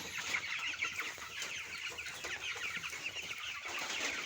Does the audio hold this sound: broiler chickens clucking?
yes